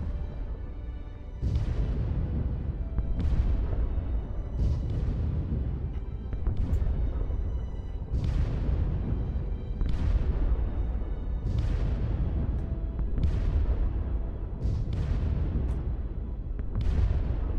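Capital ships bombarding a planet in the video game Sins of a Solar Empire: Rebellion, a regular series of heavy booming impacts, each with a decaying rumble, repeating every second or two over a continuous low roar.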